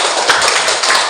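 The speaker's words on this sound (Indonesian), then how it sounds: "Tepuk tangan sekali lagi untuk kita." A classroom of students gives a round of applause for their lesson, dense continuous hand clapping from many people throughout, loud and close.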